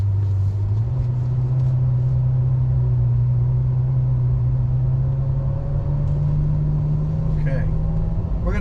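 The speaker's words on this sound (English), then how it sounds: "we are in automatic shift at the moment, so it is shifting all by itself" A 2014 Ferrari F12 Berlinetta cruising in automatic mode, a steady low engine drone with a slight step up in pitch as it shifts, road rumble underneath, someone talking over it.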